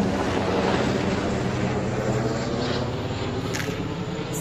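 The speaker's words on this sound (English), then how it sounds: "got the helicopter flying over" A helicopter flies over the scene of a plane crash in Yorba Linda, California, heard as a steady, fairly loud broadband rumble and whoosh with wind buffeting the microphone.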